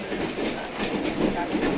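A Mumbai local commuter train runs past Kalyan after heavy rain, giving a continuous close rumble with rhythmic rail clatter from inside a crowded carriage.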